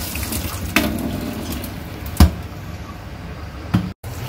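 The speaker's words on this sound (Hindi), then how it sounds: "अब इसको मैं पानी को बाहर" Water drains from a pan of boiled green peas in a kitchen, a steady wet pouring wash with a few louder splashes and knocks.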